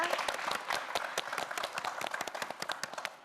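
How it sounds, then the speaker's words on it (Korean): Applause from a studio audience on a Korean quiz show, many hands clapping in a steady, moderately loud patter with sharp individual claps standing out, for a contestant who finished second. "김수현 학생에게도 다시 한번 큰 박수 부탁드립니다"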